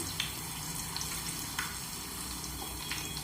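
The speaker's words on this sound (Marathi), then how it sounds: "आणि 2 तेजपत्ता। व्यवस्थित हलवून घेऊया" Whole spices and bay leaves frying in a pan for chicken biryani, with a steady close sizzle and a few scraping clicks as they are stirred, no voices.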